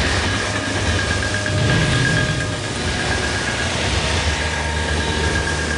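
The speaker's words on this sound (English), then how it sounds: "the subway." Seoul subway Line 9 train running steadily, a continuous loud rumble of wheels on rail with a faint squeal and rhythmic clatter, filling the whole stretch without speech.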